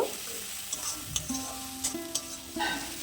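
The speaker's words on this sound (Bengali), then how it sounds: "মশলাটাকে একটু ভালো করে কষিয়ে নেব" Spice paste being stirred and fried in a pan for a whole-fish Bombay duck curry, a steady low sizzle with intermittent scraping strokes of a spoon, close and fairly quiet.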